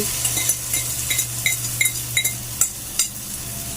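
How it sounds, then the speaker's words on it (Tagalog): Beaten egg poured over string beans frying in a pan for tortang sitaw, a Filipino omelette: a steady close sizzle with regular clinks and scrapes of a utensil stirring against the pan. "ilalagay na natin yung egg"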